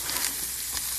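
Food sautés in a frying pan with a steady, close sizzle and crackle over a lowered heat, constant and uninterrupted with no talking.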